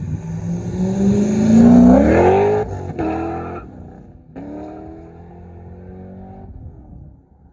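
A group of Mazda Miatas drives past at an open house gathering, engines rising loudly as one car revs and accelerates close by, then fading, followed by further cars passing at a more even drone.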